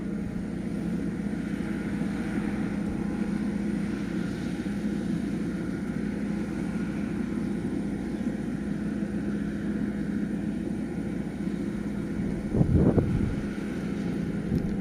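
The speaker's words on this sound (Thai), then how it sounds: "ลมแรงครับ" Strong wind buffeting the microphone outdoors beside a rice harvester at work in a field, a steady low rumble throughout with a brief louder gust near the end.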